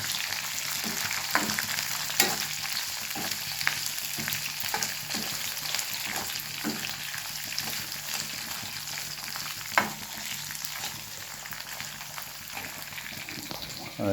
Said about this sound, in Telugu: పచ్చిమిరపకాయలు కూడా బాగా వేగాలి ఫ్రెండ్స్.